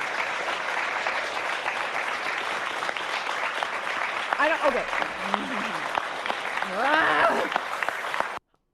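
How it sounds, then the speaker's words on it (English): An audience claps steadily at a handgun sales freeze announcement, a broad patter of many hands held at even strength, while a voice speaks over it toward the end. "Why are you all clapping?"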